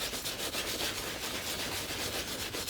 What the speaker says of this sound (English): give it a very gentle scrub all over